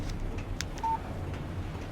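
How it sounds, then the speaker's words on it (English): Phone text message alert in the Alan Wake video game: a single short electronic beep sounds near the middle, faint over quiet background ambience, with no one speaking. "Text message from Barry"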